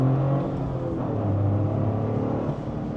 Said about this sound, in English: All right, setting off now in the GR Corolla